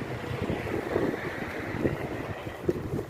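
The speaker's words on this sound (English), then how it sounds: "It's a bit windy here" Gusty outdoor wind buffets the microphone at a windswept spot, low rumbling bursts rising and falling, with no talking.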